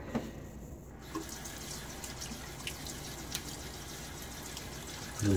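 Running tap water hisses steadily into a sink while a razor is rinsed after a shave with a Rockwell 6S safety razor, with a few soft drips and small splashes, close and continuous.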